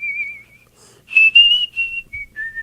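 A person whistling a tune like the theme song from The Andy Griffith Show, clear close melodic notes in short phrases with brief pauses between them, no talking over it.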